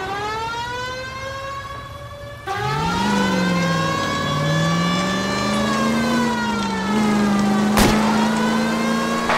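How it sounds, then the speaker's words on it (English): Car engine revving hard during a police pursuit in the LA Noire video game, rising and falling in pitch beneath a wailing siren, loud and continuous after an abrupt start. "That's Kelso's car."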